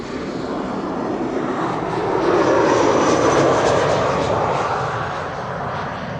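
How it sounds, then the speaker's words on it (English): A Pilatus PC-24 business jet approaches to land at Amsterdam Schiphol, arriving from Bristol. Its engine roar is steady and broad, swelling as the jet nears overhead and then slowly easing off. "PC-24 arriving from Bristol is approaching via the glide slope of 36 right."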